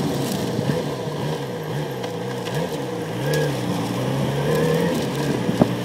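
A Yamaha XJ6 motorcycle engine runs steadily below 3,000 RPM while riding in the city, a continuous low rumble with slight rises and falls, close to the listener.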